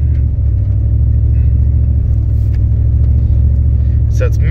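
A Duramax diesel truck engine idles roughly, misfiring with an uneven, stumbling rumble that keeps breaking rhythm, loud and close, with a brief clatter near the end.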